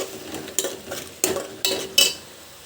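Mutton curry with turmeric being stirred and fried in a pan, with a soft steady sizzle under several distinct scraping strokes of a spoon against the pan, close and moderately loud.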